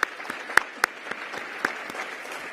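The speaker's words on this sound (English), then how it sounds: "a big round of applause for the reception sponsor, which is P&G Gillette" Moderate applause at an annual business meeting for a reception sponsor, a soft bed of crowd clapping with several crisp, closer claps punctuating it, steady over a couple of seconds.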